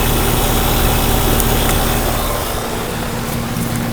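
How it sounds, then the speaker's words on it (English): A Copeland CR18-K6E-PFV875 two-cylinder compressor on a 1995 Weatherking unit runs in a steady, loud, close mechanical hum with a constant low drone that eases slightly partway through. "Here's a look at the Copeland compressor."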